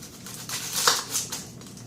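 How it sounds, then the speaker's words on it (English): A knife crunches through the root end of an onion in a couple of short, close cuts, the snaps faint and brief against a quiet room. "So basically we're just going to cut off the bottom."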